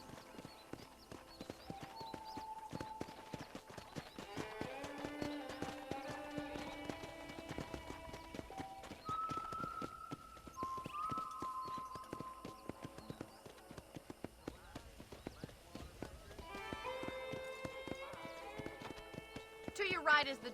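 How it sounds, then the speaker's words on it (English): Rhythmic hoofbeats clip-clop over music, with a horse whinnying and a voice speaking at moments, from the video game Red Dead Redemption. "let's see if you can still ride a horse"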